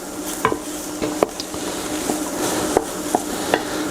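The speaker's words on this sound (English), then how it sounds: "And we're just going to stir that around." Vegetables with smoked paprika are stirred around in a pan over raised heat with the lid off. A soft sizzle runs underneath while sharp clicks and scrapes of the utensil against the pan come at an irregular rhythm.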